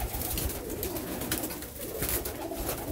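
Many pigeons coo together in a loft, a dense, continuous murmur of soft low warbling calls overlapping close by against a busy background hum.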